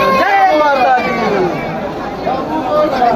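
Dense crowd of pilgrims moving along the route to the Maihar temple, a steady close hubbub of many overlapping voices and chatter with no single speaker standing out.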